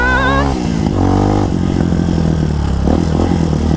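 A new 2021 TAO Motor TBR7 motorcycle rides hard on a test run, its engine loud and close with a steady droning buzz that rises and shifts in pitch as the throttle works, with no talking.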